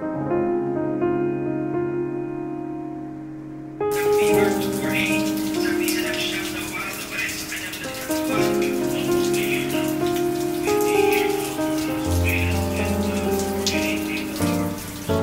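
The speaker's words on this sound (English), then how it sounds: "it is raining hard" Hard rain falling steadily outdoors, a dense continuous patter of drops on surfaces that runs throughout, mixed under a sustained tonal background with no talk.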